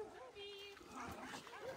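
Dogs at a shelter, settling into their new room, give soft whimpers and short yips close by, with a voice speaking over them.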